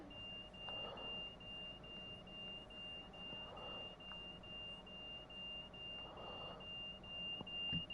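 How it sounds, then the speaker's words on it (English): A fire alarm sounds aboard a West Midlands Railway train near Dudley Port in Train Sim World 6: a steady high-pitched tone with a softer beep roughly every two and a half seconds, over a constant low rumble of the moving train. "Sort of fire alarm has been going off."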